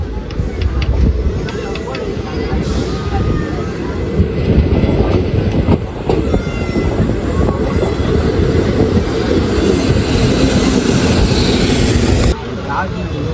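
Tea Garden Express passenger train rolling on rails, a steady loud rumble with wheel clatter running throughout, with people talking faintly over it.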